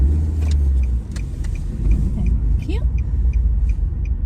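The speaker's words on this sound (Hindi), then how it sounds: "अभी एक बस आ गई है मेरे सामने" A bus arrives and passes close by on a road, its loud engine rumbling steadily with deep low drone and traffic noise throughout.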